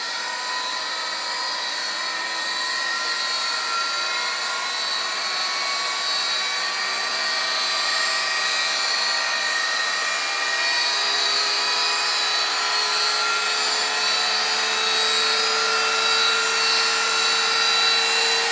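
A car alternator converted into a DC motor and run by a speed controller gives a steady high electric whine that slowly climbs in pitch as it spins up, close and continuous, with no talking.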